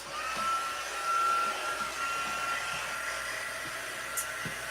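A heat tool blows hot air steadily over embossing powder on cardstock, a loud, close, continuous whooshing roar that holds for the whole stretch with no talk.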